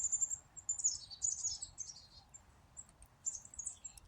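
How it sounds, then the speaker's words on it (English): Wild chickadees and towhees call outdoors in a series of faint, high, thin chirps and short twittering phrases, scattered and somewhat distant, over a quiet low rumble. "A couple of chickadees, couple of towhees"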